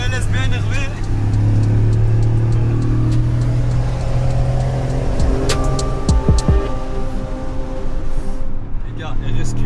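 An Audi RSQ8 at a large Brussels car meet rumbles and revs with a low engine drone throughout, other cars and crowd noise mixed in, while people talk over it.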